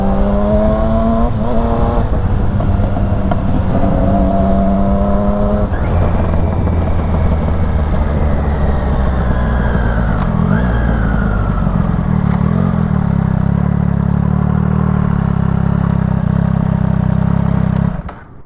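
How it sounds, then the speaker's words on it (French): A two-stroke motorcycle rides by outdoors at sunset, its engine whining and revving loudly through rising and falling gears, holding a steady drone before cutting off abruptly at the end. There is no talking over it. "sur ce doux bruit du deux temps les gars"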